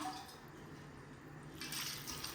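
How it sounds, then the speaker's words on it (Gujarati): Water trickles and drips out of washed flattened rice (poha) resting in a kitchen sieve, a soft, faint, continuous splashy patter that swells slightly toward the end, with no talking. "એટલે આને ફેરવી અને હાથેથી આપણે એને ધોઈ લેવાના, કે જે ચાળણીમાં રાખવાના એટલે પાણી છે એ નીતરી જાય."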